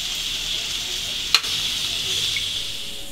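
Dry red chillies sizzle in hot oil as a tempering for dal in a home kitchen. The frying hiss is steady and moderately loud, broken by one sharp clack partway through.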